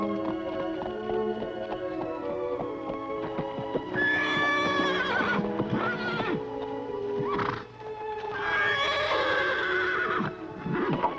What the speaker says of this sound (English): a great wild horse and the only person on earth who can ride him